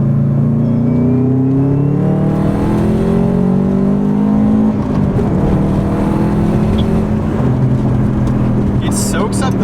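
A close Subaru WRX Wagon engine revs hard, pitch climbing steadily through the gears, loud and continuous with road rumble underneath.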